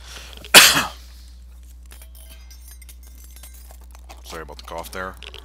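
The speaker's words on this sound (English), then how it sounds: "Sorry about the cough there." A single sharp cough bursts out near the start, loud and close, followed by quiet background and someone speaking softly toward the end.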